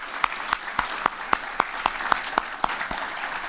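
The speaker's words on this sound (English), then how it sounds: "Please give them a big round of applause." Applause from a conference audience at opening welcome remarks, a steady wash of clapping with sharp, evenly spaced loud claps standing out every quarter second or so, close and sustained.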